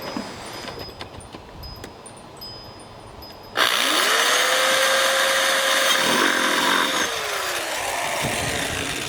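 After a quiet stretch of faint shuffling, a drill starts abruptly and bores through a plastic pail, running steadily for several seconds, its pitch rising then falling as it bites through.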